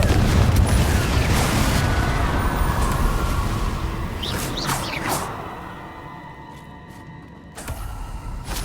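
A Confringo fire spell in Hogwarts Legacy bursts into a loud, rumbling explosion that roars for several seconds and slowly fades, followed by a few sharp crackles and a renewed low rumble.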